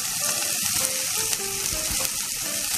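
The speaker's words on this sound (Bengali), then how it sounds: "নুনটা অ্যাড করে দিয়ে আমি এটাকে আরও 2 থেকে 3 মিনিট মতো নাড়িয়ে নেব।" Potatoes and onion with salt fry and are stirred in a pan, giving a dense, steady sizzle with occasional scraping stir sounds, close and loud with no talk.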